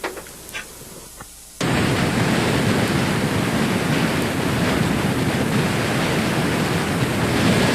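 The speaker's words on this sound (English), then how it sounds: "Quick, Victor, close the hatch. It's too windy in here." Loud, steady roaring wind rushes in through an open aircraft hatch after a brief quieter moment with some knocks, then blows continuously and broadband without letting up.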